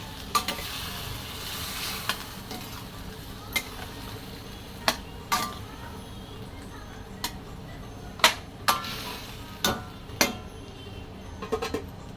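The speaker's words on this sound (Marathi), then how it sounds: "सर्व मसाला आपण असा मिक्स करून घेऊया" Soft sizzling of spice masala in a pan, with a spoon scraping and clicking against the metal at irregular intervals as it is mixed, close by, no voices.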